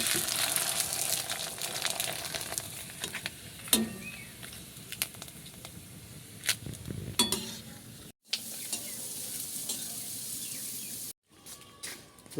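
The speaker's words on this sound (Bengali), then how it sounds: "সাবুর পাপড় বানিয়েছিলাম সেটাই ভাজবো" Sago papads frying in hot oil, a continuous bubbling sizzle with crackles and sharp clinks from a utensil against the pan, briefly cutting out twice near the end.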